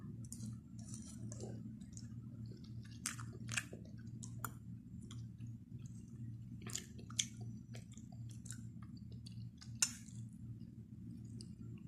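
Someone eating rice with lettuce and vegetables, with soft close chewing, clicks and wet mouth noises spread irregularly over a steady low background hum, and no talking.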